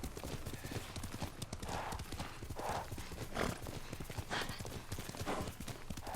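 Steady, rhythmic hoofbeats of a horse in the video game Ghost of Tsushima clopping along at a trot, close and continuous, with faint ambient background.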